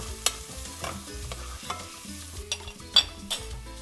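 Onions and garlic cook in a pan for a Peruvian chicken cau-cau stew, a soft sizzle beneath repeated stirring scrapes and a few sharp utensil taps, close by with no talking.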